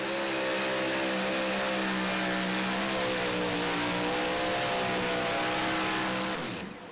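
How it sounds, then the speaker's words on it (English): Super modified two-wheel-drive pulling truck at a Saluda, South Carolina tractor pull, engine screaming at wide-open throttle for the whole run, loud and sustained with a steady high roar that tails off at the end. "the second effort here from Dr. Tim Messer, this time driving wide open"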